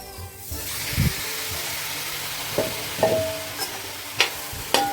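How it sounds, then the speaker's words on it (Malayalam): Masala-marinated chicken goes into a hot pan for chicken mulakittathu, giving a steady close sizzle and hiss with a few soft knocks and scrapes from stirring. "ഇനി നമുക്ക് നമ്മുടെ മസാലയൊക്കെ തേച്ച് വെച്ചേക്കണ ചിക്കൻ ഇട്ട് കൊടുക്കാം"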